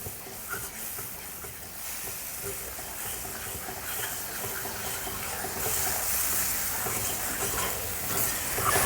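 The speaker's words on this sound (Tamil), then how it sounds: "ஒரு 2 நிமிஷம் வதக்கிடலாம்" Onions and spices sautéing for a village-style eel (vilangu) fish curry, giving a steady low hiss and sizzle that swells slightly louder toward the end, with no talking.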